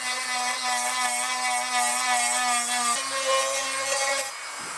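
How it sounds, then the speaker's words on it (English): A Dremel rotary tool grinds out an opening in a plastic prop, giving a steady high-pitched whine with a rough rasping edge. It runs continuously for several seconds, then cuts off near the end, with no talk. "I'm gonna have to just Dremel out the opening a little bit larger."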